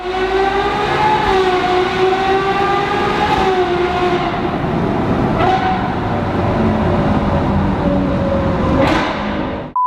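A Ferrari engine screams at high revs as a loud, sustained tonal whine that climbs repeatedly in pitch, with several brief breaks suggesting gear changes between pulls.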